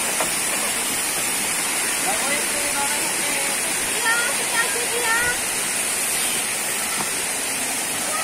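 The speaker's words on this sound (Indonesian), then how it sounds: "Menyusuri sungai, tapi sungainya modelnya seperti air terjun" Water of the Sungai Mudal river in Kulonprogo, Yogyakarta cascades down in steps like a waterfall, a steady close rushing roar that fills the whole stretch, with faint voices and birdsong-like chirps above it.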